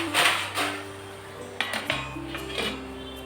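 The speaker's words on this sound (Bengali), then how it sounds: "এবারে ঢাকা চাপা দিয়ে এটাকে ভেজে নিতে হবে।" A metal lid clinks and settles onto a pan of frying spinach, several light knocks and clatters of cookware against a low background hum, no talking.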